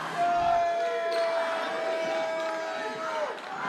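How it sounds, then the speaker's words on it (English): Crowd noise from spectators at a high school boys basketball game, Santa Margarita versus Orange Lutheran, a steady murmur and cheer with a sustained whistle-like tone and some talk over it. "And now the crowd getting into it."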